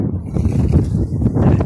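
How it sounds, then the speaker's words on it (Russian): Strong wind buffets the microphone outdoors near trees, a steady loud low rumble filling the whole moment with no speech heard. "Видите, какой ветер очень сильный."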